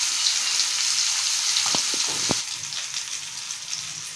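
Mandeli fish fry steadily in hot oil in a pan over a gas flame, giving a continuous close sizzle with a few brief crackling pops, and no voices.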